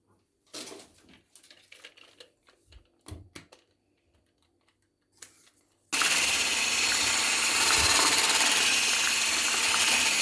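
After several seconds of scattered light clicks and taps, an electric mixer starts abruptly, whipping cream over a cooled milk pudding for a biscuit dessert with a loud, steady, close whirring roar.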